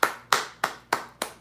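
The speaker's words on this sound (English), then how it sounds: "So, give him a round of applause, guys." Slow, evenly spaced claps from a single pair of hands, five sharp strikes about a third of a second apart, close and dry with no voices.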